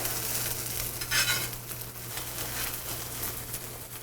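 Gluten-free banana French toast fries in a skillet after being flipped, giving a steady, close, even sizzle with a low hum underneath.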